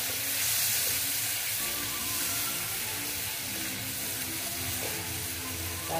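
Koi fish fries in mustard and poppy seed paste as water goes into the pan, raising a loud, steady sizzle and hiss that carries on without a break.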